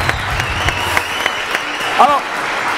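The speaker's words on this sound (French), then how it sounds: "On va les applaudir très fort." Studio audience clapping on a French midday TV show, a bright, continuous patter of applause beneath a host's voice, with a brief whistle-like tone partway through.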